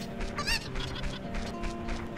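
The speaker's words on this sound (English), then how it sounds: "I hear you, chicken." Chicken clucking in the video game Zelda: Ocarina of Time, a run of squawky bird calls with one louder burst near the start, heard close and alone.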